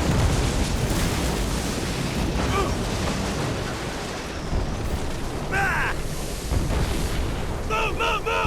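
Heavy flak explosions burst around the player in Killzone 2, a dense rumbling barrage of booms with sharp pops and crackles on top, continuous and loud from start to finish.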